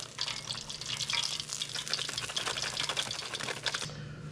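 Pork tenderloin tonkatsu deep-frying in hot oil, a steady close crackling sizzle with dense fizzing pops that runs on continuously, then cuts off near the end.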